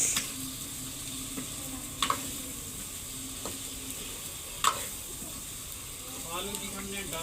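Potatoes fry in roasted masala in a pan, giving a faint, steady sizzle with a few sharp clinks of stirring and soft speech nearby.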